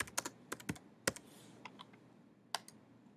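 Computer keyboard typing, quiet irregular key clicks in short bursts with pauses between, close and alone.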